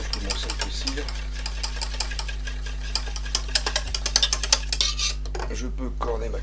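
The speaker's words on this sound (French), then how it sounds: "Je vais maintenant ramener ma casserole ici et verser mon appareil tout en remuant." A whisk or spoon scrapes and clinks rhythmically against a saucepan as pastry cream thickens on the heat, the strokes quickening and growing louder near the end over a steady low hum.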